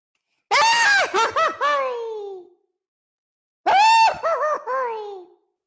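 Two bursts of a voice imitating a Goofy-style cartoon scream: a wavering, warbling high yell with yodel-like breaks, repeated after a short pause, loud and close.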